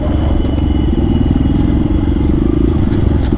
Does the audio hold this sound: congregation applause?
no